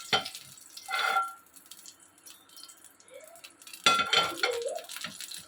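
Pumpkin-leaf-wrapped fish fries in mustard oil in a pan with a soft background sizzle, broken by two louder bursts of clattering and placing sounds near the start and end.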